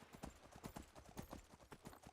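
Horse hooves clip-clop in steady rhythm in a video game set in the Iliac Bay, quiet and close, a short run of even hoofbeats with no talking.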